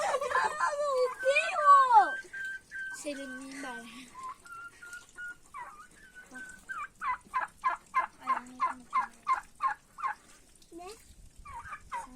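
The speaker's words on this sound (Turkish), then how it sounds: "Şurada hindileri var." Turkeys gobble in a rapid series of rippling calls at a village farmyard, with whistling bird calls and a voice earlier on, then a steady run of gobbles near the end.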